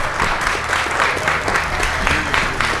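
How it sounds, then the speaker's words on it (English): A room full of people applauds panelists at a Texas border and immigration panel, with continuous, fairly loud clapping that is slightly uneven with a few louder bursts, and no speech over it. "Let's give them a round of applause, please."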